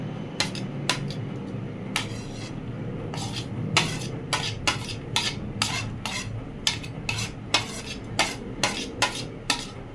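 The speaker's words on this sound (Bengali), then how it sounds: "যে সবজিগুলো কাটা আছে, যেগুলো যেগুলো নেব সব দিয়ে দিচ্ছি এর মধ্যে।" Chopped vegetables are stirred into oats in a pan, a soft continuous scraping under a low background, then a regular series of sharp utensil clinks against the pan growing more distinct toward the end, close with no talk.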